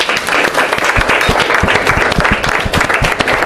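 An audience at a Miss Kinshasa independence-day beauty event bursts into loud, sustained applause, dense clapping continuing evenly throughout.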